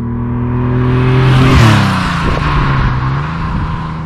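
A 1974 Ferrari 246 GTS Dino, a mid-engine V6 car of 195 hp, drives past steadily, its engine note rising and falling in pitch as it nears and moves on, loud and continuous with no talking.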